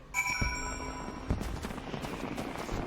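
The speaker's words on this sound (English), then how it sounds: "So there are sounds and views of fireworks, because I am recording this during an event." Fireworks burst during an in-game event in Final Fantasy XIV: a few sharp cracks and pops with ringing tonal tails, then a steady crackling fusillade in the distance.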